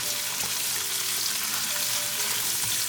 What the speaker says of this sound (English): we're going to saute our onion until they become transparent